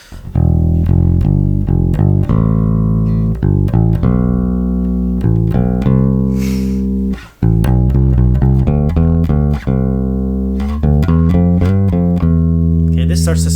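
Scale practice alternates three-note and four-note groupings, each run of distinct, evenly picked notes played loud and up close, with a short pause midway and no talking.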